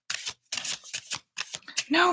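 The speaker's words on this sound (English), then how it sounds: "I'll give it one more shuffle." A tarot deck is shuffled close by in quick, papery riffles, several short bursts with brief pauses between them.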